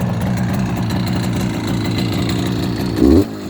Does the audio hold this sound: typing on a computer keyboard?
no